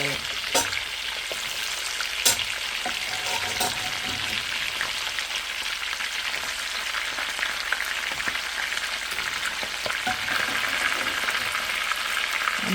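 Rui fish frying in a pan of oil with cardamom pods, a continuous soft crackling sizzle like light rain, with a few sharp pops and spatters, close and fairly quiet with no talk.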